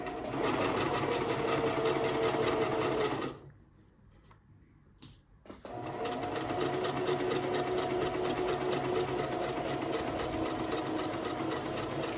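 A sewing machine stitches a kimono in a loud, fast, even whir that runs for several seconds, stops briefly, then starts again and runs steadily to the end.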